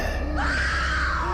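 A woman's high, piercing scream from a horror cartoon, loud and sustained for about a second, rising in pitch with a wavering edge, alone without speech.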